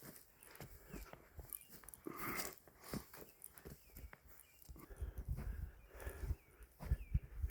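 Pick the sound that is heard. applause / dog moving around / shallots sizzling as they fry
dog moving around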